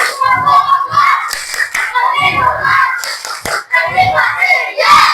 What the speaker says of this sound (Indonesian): Sebelum ditutup kita tepuk hak anak dulu